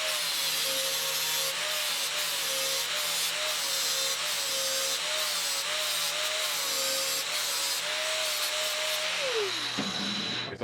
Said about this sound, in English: So I'm gonna grind these to this line, and then I'm gonna weld the rest.